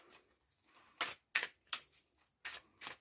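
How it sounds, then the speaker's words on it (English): A blue deck of playing cards is shuffled at close range, giving five short, crisp riffling bursts spaced irregularly across a few seconds with quiet gaps between them. "Give it a shuffle."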